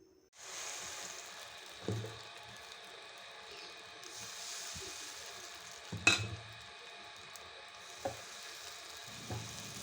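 Appam batter sizzles softly in a hot pan as it is swirled, a faint steady frying hiss broken by a few light knocks and scrapes of the pan.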